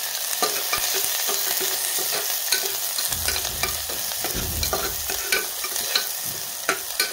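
Onion sautéing in hot oil in a pan for a pea and bean masala curry, a continuous sizzle broken by repeated spoon scrapes and taps at an uneven pace, close up, without speech.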